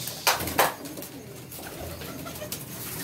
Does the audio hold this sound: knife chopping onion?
no